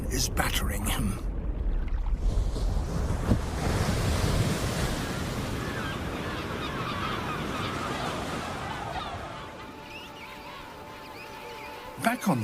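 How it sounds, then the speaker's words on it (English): Stormy ocean at sea, with heavy waves crashing and surging under strong gusting wind buffeting the microphone, a loud continuous roar that eases slightly near the end, with narration spoken over it. "and the ocean is battering him."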